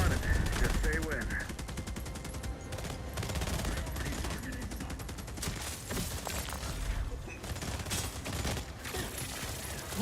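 Sustained gunfire rattles through a firefight in The Expanse: Osiris Reborn, dense rapid bursts and single shots layered almost continuously over the whole stretch, loud and close, with combat chatter mixed underneath.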